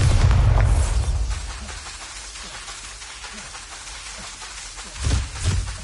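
A Bombarda blasting spell in a Harry Potter video game bursts with a loud, rumbling boom at the start that fades into a long low tail. Two smaller, sharper blasts follow near the end.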